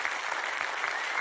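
A studio audience at a Greek satirical TV news show applauds, a dense, steady wash of clapping that fills the whole moment without pause.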